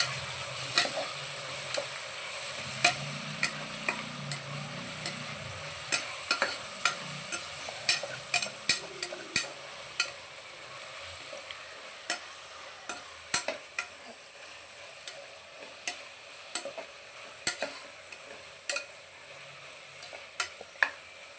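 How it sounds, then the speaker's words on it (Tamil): Onions and tomatoes for a vegetable biryani fry in a pan with a soft sizzle, while a spatula taps and scrapes the pan in frequent sharp clicks that grow more regular as the stirring goes on. "அதனால் 4 தக்காளி சேர்த்து நல்லா வதக்கிக்குவோம்."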